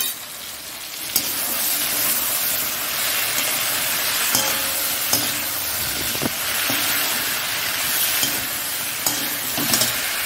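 Tomatoes and green chillies for chickpea ghugni sizzle loudly in a hot pan, a constant close hiss broken by regular scrapes and knocks of a spoon stirring, with no talk.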